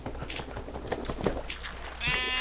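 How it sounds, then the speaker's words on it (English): A sheep bleating in the video game Minecraft, a brief, fairly quiet bleat amid ambient game noise, followed by a sustained tonal sound. "Murder that sheep, Wolfie."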